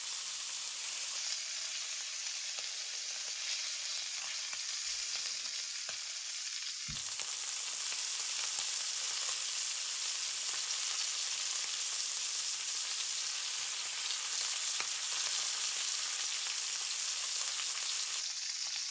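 A buffalo steak sears in a hot pan with a loud, continuous sizzle and frying crackle. It shifts briefly around the flip and the butter going in, then settles back into a steady hiss.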